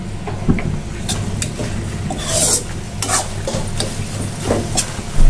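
A spoon stirs cooked taro leaves (kochu shak) in a pan, giving repeated close scraping and soft squelching strokes over a low steady kitchen hum, with no talking.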